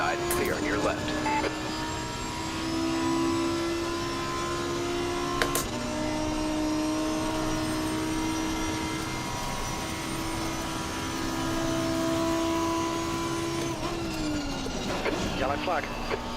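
A Lamborghini race car in a racing video game at Spa, its engine holding a steady droning tone that rises and falls with gear changes, a couple of sharp shifts and a brief burst near the end.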